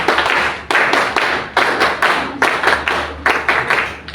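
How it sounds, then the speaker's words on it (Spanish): An audience claps for a speaker at a Spanish-language talk on APRA political ideas, with a steady run of close, sharp hand claps rising and falling in bursts. "Palmas para María Inés, por favor"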